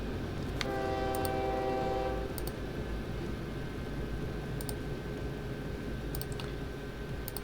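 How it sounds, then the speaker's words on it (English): A train passes in a railway video game, with a sustained rumble of wheels throughout, a loud multi-tone horn blast early on, and faint clicking sounds scattered over the top. "aha, we've got our first train."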